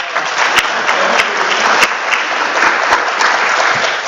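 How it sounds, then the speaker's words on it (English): A crowd claps loudly and steadily at a conference talk, dense applause filling the room without pause, with a few sharper claps standing out. "big round of applause"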